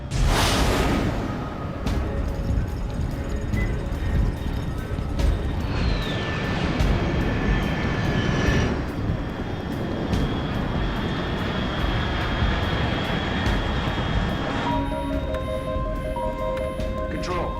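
Aircraft roaring overhead in the video game Metal Gear Solid Delta: Snake Eater, a loud sustained engine rumble and rush filling the whole span with tonal whines, and a radio voice speaking over it.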